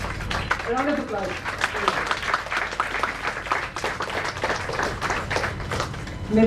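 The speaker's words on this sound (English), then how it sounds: "A round of applause." An audience at a Women's Day celebration claps in a continuous, moderately loud ovation, with a voice talking briefly over the clapping.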